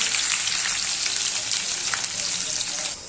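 Green chili and garlic frying in hot tempering oil for a fenugreek vegetable dish, a loud, steady, close sizzle that drops off at the very end.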